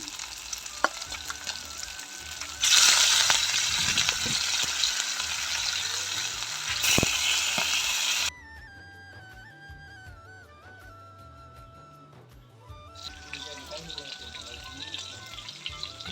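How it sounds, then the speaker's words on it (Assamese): Fish fries in a pan for a taro root fish curry, a bright, loud sizzle that drops away midway while a melodic tune plays, then the sizzle returns. "এখন পেনত মাছকেইটা এতিয়া ফ্ৰাই কৰি ল'ম"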